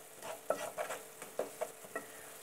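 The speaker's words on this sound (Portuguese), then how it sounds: "Deixar refogar" Fish stroganoff sautéing in a pan, a soft low sizzle punctuated by several quick scraping strokes of a spoon stirring, close and fairly quiet.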